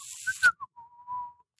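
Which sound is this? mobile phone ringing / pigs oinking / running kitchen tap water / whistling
whistling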